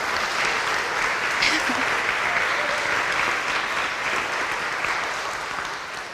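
A church congregation bursts into warm, sustained hand clapping during a sermon, heard at moderate distance and tapering off slightly toward the end.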